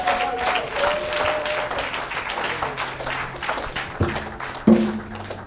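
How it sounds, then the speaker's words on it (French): A church congregation applauding during a worship service, a steady wash of clapping heard at moderate distance, with speech and a few louder taps toward the end. "Acclamez Jésus-Christ."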